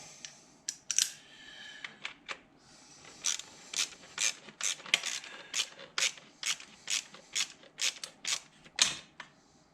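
Ratchet on a short extension tightening bolts in crisscross order on a 2012 Hemi 1500 engine during starter and intake work, giving a quick series of sharp, close clicking bursts in a steady rhythm with brief pauses.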